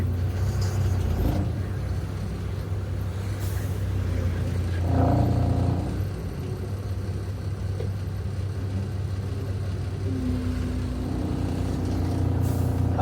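A truck setting off to refuel with diesel, its engine idling and rumbling at a steady middle distance, with a brief swell of engine noise partway through and a hiss like an air brake.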